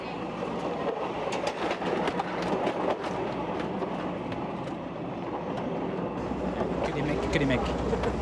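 A passenger train running in the Philippines rumbles steadily inside the carriage, with a continuous rolling roar and rapid rattling clicks throughout, while a voice speaks faintly beneath the noise.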